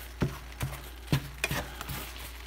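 Eggs cook in a pan, scrambled and pushed around until dry, with a few sharp scrapes and taps of the utensil against the pan over a faint sizzle.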